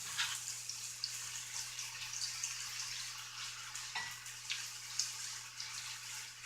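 Small potatoes, cut lengthwise, fry in a pan while being stirred and pressed flat. Faint, soft sizzling mixes with scraping stir sounds and occasional clicks, with no speech.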